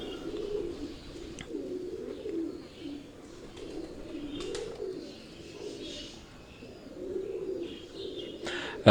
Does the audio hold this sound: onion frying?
no